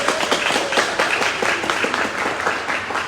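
An audience bursts into sustained applause, dense overlapping clapping at steady loudness throughout.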